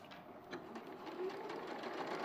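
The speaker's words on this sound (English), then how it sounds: "So I'm just going to go ahead and sew that." Sewing machine stitching a quarter-inch quilting seam, a soft, quiet, rapid whirring hum running steadily throughout.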